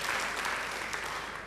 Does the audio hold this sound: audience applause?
yes